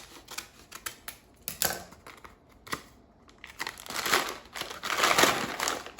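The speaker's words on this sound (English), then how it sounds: "So let me open up the bag of popcorn." A bag of pre-buttered popcorn is torn open and handled, giving close, bursty plastic crinkling and rustling that swells louder toward the end, with no talk.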